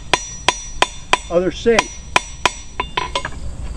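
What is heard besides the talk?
blacksmith hammering and tapping iron nail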